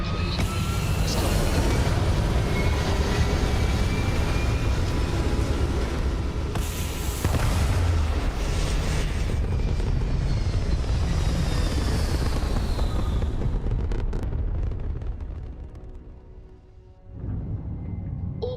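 Spaceship liftoff in the Starfield video game: a loud, continuous roaring rumble with booming low thrust that holds steady for about fifteen seconds, then dips and fades before a brief renewed swell at the end.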